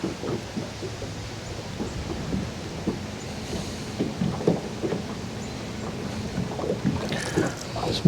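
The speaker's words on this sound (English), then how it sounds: "So my big motor's now dragging." A big boat outboard motor runs while dragging in the water, giving a low, uneven rumble with scattered knocks and splashes over a steady background.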